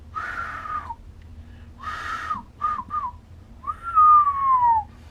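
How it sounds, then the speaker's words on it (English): Someone whistles a few wavering, breathy notes close to a microphone, with short pauses between them and a longer falling tone at the end. "I just can't whistle."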